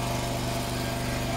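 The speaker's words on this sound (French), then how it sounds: "Je sais même pas si tu m'entends avec le bruit du moteur." Steady buzzing drone of a small boat outboard motor running continuously close by, with a constant low pulsing throb and no pauses.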